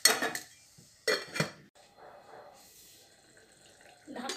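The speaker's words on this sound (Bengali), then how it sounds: "এবার ঢাকা দিয়ে 10 মিনিটস মাছটাকে রেখে দিতে হবে।" Metal lid set on a pan of fish as it cooks, with sharp clattering clanks of cookware close by, followed by a quieter stretch of soft sizzling and a last clatter.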